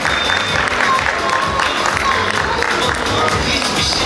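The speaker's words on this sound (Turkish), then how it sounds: "Damat Bey'e şimdi bir alkış, yavaş yavaş başlıyoruz, güçleniyoruz." Wedding guests applaud the groom in a dense, continuous wash of clapping from a crowd, loud and close, holding steady throughout with faint cheering mixed in.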